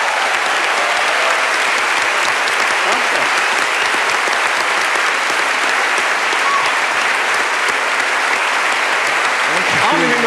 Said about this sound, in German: Nochmal einen riesen Applaus für Roger Schawinski.